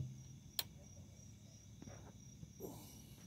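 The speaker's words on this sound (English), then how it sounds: "Can you hear those crickets?" Crickets chirp at night in a thin, steady, faint high-pitched trill, with a few quiet clicks and rustles nearby.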